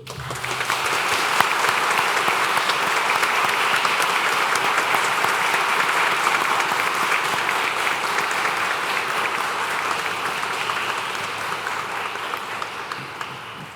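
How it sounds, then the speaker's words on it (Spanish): An audience at a swearing-in ceremony for new lawyers before the Supreme Court breaks into sustained, even applause that holds strongly for over ten seconds before easing slightly, with no speech over it. "Aplaudamos este logro."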